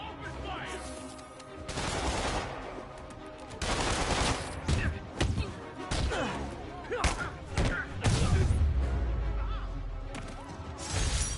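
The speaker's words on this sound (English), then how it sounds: "Open fire!" Enemy gunfire in a Spider-Man video game, sharp bursts of shots and crashes with heavy thuds mixed among music and effects, shouted game dialogue heard alongside.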